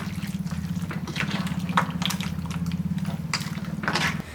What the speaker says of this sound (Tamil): அதிலே கொஞ்சமாக ஒரு 200 ml அளவுக்கு தண்ணியை ஊற்றி நம்ம அதில் ஊற்றிக்கலாம்.